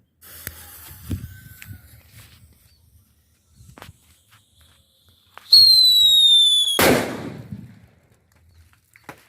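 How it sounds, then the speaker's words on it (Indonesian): A rising whistle and hiss lead to one loud, close bang of a jumbo paper-wrapped firecracker, followed by a fading rumble, with scattered small clicks and rustles beforehand. "Itu dia petasan buntelan kertas jumbo."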